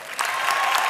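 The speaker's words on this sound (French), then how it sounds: "Je vous demande d'applaudir Serge Firmin." A short burst of audience applause, many hands clapping at once, loud and close.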